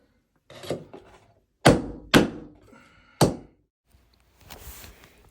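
A 5-in-1 painter's tool prying nailed trim away from sheetrock: four or five sharp, close wooden knocks and thunks, spaced irregularly, with brief scraping in between and a softer rustle at the end.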